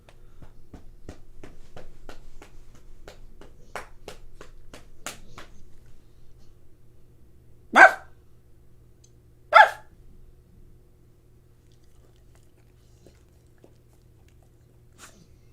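A dog gives two loud, sharp barks close by, spaced about two seconds apart, after a run of soft tapping and clicking.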